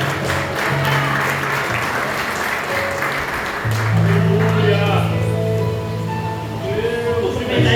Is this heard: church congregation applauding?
yes